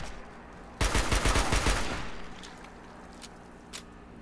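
Assault rifle fire in the Fallout 4 video game with a weapon overhaul mod: one rapid burst of about a second of loud, close automatic shots, then a fading echo and a single faint shot after it.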